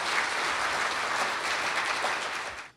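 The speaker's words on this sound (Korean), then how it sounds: "우리 안철수 후보께 큰 박수로" A business CEO forum audience gives a big round of applause for a guest candidate, dense sustained clapping from a large crowd at steady volume that fades out at the end.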